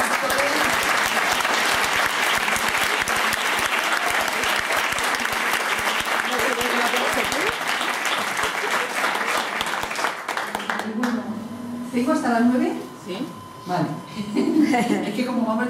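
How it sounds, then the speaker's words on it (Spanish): Audience applause for the participants fills a hall for about ten seconds, dense and steady, then dies away as a voice begins speaking. "yo quiero darle un aplauso a todos los que han intervenido"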